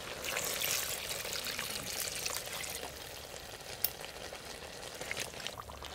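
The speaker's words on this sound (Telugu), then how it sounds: "ఒక గిలాసు నీళ్ళు పోసుకుంటాను." A glass of water poured into simmering mutton curry in a pot, a soft continuous rushing pour over gentle bubbling and sizzle, close but fairly quiet, with one small clink near the end.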